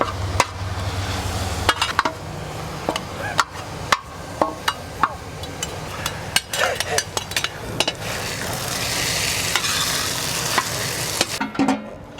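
Food cooking in a Firedisc outdoor cooker being stirred, with repeated sharp scrapes and clanks of a utensil against the metal pan over a steady frying sizzle, close and fairly loud.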